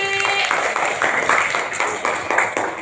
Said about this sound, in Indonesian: Tepuk tangan untuk Kori.